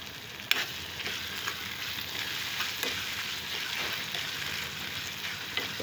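Tomatoes fry in a pan for a tomato and broad bean curry, giving a steady, close sizzle and crackle, with a sharp clink of a stirring utensil near the start.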